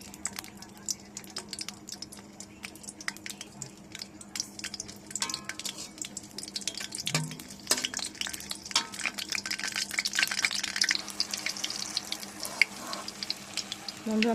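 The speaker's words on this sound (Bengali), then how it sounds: "আমি একটি ভর্তা করব, তাই কিছু মরিচ আগে কাঁচামরিচ ভেজে নিব।" Green chillies fry in oil in a karahi, a soft, steady crackle and sizzle running throughout with occasional stirring clinks, growing busier toward the end.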